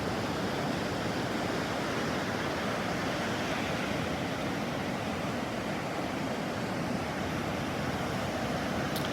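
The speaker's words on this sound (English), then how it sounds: "Waves are pretty exciting today." Ocean surf rolls in on a foggy winter beach at Pawleys Island, a constant dense roar of breaking waves mixed with wind noise on the microphone, steady and loud with no talking.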